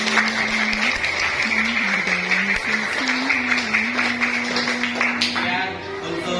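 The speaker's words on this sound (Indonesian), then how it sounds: "Tepuk tangan untuk kita semua ya." Classroom applause at a junior high school in Banjarharjo, students clapping together for several seconds under a steady tonal hum and some talk, fading near the end.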